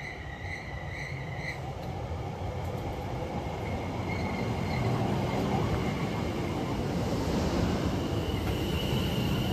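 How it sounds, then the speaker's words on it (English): A train rumbles steadily with clattering wheels and faint high squeals, growing slightly louder as it rolls into Mistley station, with no voices. "the train overshoots on purpose."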